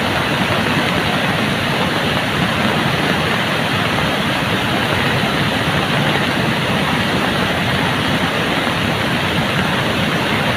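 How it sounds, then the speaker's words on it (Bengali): Strong current of a hill-fed river in flood, a loud, unbroken rushing roar of water that holds steady from start to finish, with no voices. "এখানে অনেক স্রোত, অনেক স্রোত।"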